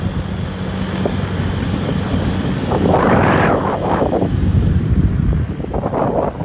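A Honda Dio Brava scooter engine strains up a hill, a steady droning whine with a rising surge midway, mixed with heavy wind buffeting on the microphone.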